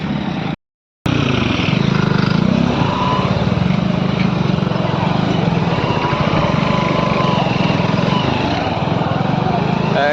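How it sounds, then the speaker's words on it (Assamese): An old motorcycle riding off-road along a dusty track, its engine droning loud and steady throughout with a brief dropout near the start, wind and rough-ground noise over it and a voice talking. "ইমান ধূলিৰ মাজেৰে গৈ আছোঁ। এইফালে চাব পাৰে বাইকৰ অৱস্থা কি হৈ আছে"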